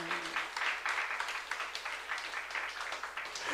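A church congregation at a youth service applauds, a dense wash of steady clapping from many hands that swells in pulses and carries on for a few seconds without talk.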